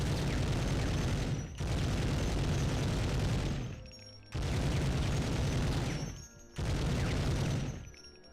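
Machine gun fire rips out in the Medal of Honor video game: three long, loud bursts of rapid booming shots, each cut off by a short lull before the next.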